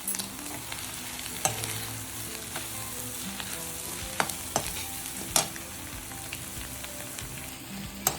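Vegetables and capsicum sizzling and being stir-fried for chicken noodles, a dense steady hiss with repeated clinks and scrapes of a spatula against the pan, close and loud with no talking.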